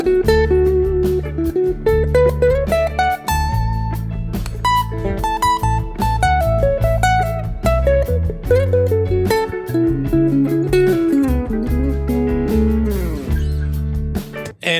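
Guitar runs a major pentatonic scale in a melodic style, with quick single notes climbing and falling over a low sustained bass note, bright and continuous for about fifteen seconds, up close with no talking.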